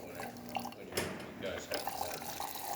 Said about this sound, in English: The machine will slowly pulse and give you that stream of hot water